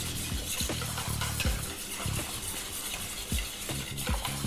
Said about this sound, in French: Donc on mélange le tout.